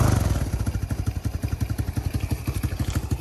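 A smoky 125cc Tao Tao motorcycle engine runs close by, a rapid, lumpy popping putter that stays fairly even with a slight lift in pace as the throttle opens.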